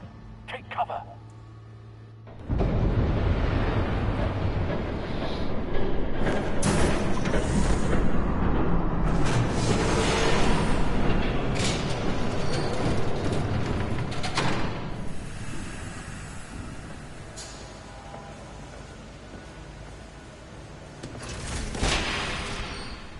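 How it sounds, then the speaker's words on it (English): A train rushes past in Batman: The Telltale Series, a loud, sustained rumbling roar that bursts in suddenly and holds for about twenty seconds before easing off, with a brief swell near the end. "There's a train coming. Take cover."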